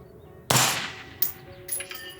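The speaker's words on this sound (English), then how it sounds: "I'm gonna shoot the steel first so I can get the wind and move right over and shoot the humanoid target." A 5.56 rifle fires one sharp, loud shot, and about a second later a faint metallic ping comes back from a distant steel target, followed by a couple of smaller clanks.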